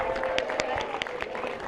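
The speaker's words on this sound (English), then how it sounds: "What a nice big round of applause for your artist, Darren." Short burst of audience applause for an artist at a Disneyland animation class, a few crisp claps within a room murmur, with talk under it.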